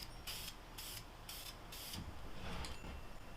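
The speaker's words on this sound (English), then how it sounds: "Especially using spray cans like this." Four short hissing spray-paint bursts repeat at a steady rhythm, fairly quiet, with some faint rattling near the end, while painting a 302 engine block for a 1987 Ford Mustang.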